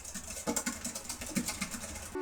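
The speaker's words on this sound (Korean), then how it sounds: "이거는 마이크로 서피스 키보드예요." Keys tapped on a Microsoft Surface keyboard in a quick, irregular patter of soft clicks, close and fairly quiet with no talking.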